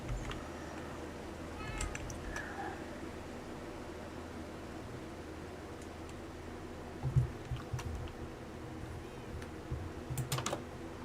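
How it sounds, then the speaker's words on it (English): A cat meows in the Minecraft video game, the in-game animal heard as a couple of short faint calls over a steady low background hum and scattered keyboard typing clicks, with no talk. "Right, come on, cat."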